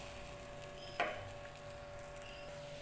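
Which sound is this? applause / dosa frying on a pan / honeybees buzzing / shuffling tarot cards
dosa frying on a pan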